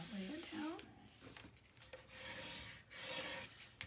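A burnishing tool rubs firmly along a paper score line on a mini album page, making a few short scraping strokes, close up, broken by brief pauses and a speaking voice.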